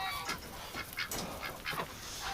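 Ducks kept outdoors in winter give a few short quacks, faint and somewhat distant, spaced irregularly over a low background with no one talking.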